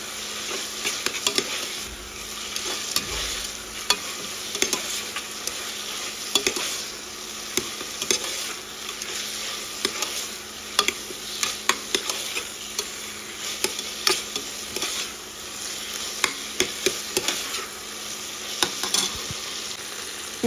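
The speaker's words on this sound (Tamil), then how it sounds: "அது எல்லாத்தையும் சேர்த்து வதக்கிட்டு" Tomato and other ingredients sauté in a pan for Ramadan nombu kanji, giving a steady close sizzle with frequent scraping stirs and clicks throughout, without talk.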